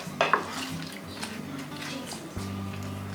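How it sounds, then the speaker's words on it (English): Green bean casserole mixture is stirred in a bowl with a utensil, giving a couple of sharp knocks at the start followed by soft, wet squishing and scraping close by. "Give that a good mix."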